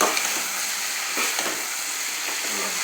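Steady sizzling of bitter gourd frying in a pan for tamarind curry, with occasional scraping strokes from stirring; close and continuous, no talking.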